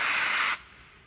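Compressed air sprayed onto a broken intake bolt on a Ford 302 GT40 engine, a close, loud sharp hiss that cuts off abruptly halfway through, leaving faint room noise.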